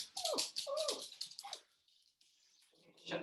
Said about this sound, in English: I think she's a guard dog.